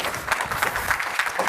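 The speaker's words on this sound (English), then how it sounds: "Round of applause for the man." A conference audience claps for a speaker taking the stage at a game publishing talk, a brief burst of steady, moderately distant applause.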